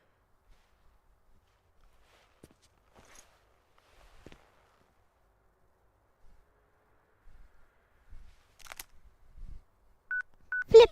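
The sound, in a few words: flip phone keypad beeps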